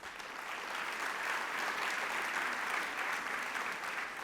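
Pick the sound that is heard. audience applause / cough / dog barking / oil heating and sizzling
audience applause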